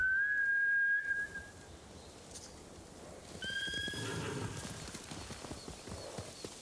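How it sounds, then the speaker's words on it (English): Samurai horses in Ghost of Tsushima: a horse whinnies in a high, drawn-out neigh, then a second whinny follows over a busy rumble of galloping hooves and movement. "Scared off the horses. They're samurai mounts,"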